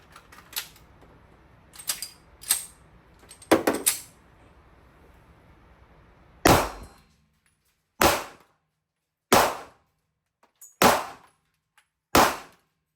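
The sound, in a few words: loading rounds and shooting at interactive bowling pin targets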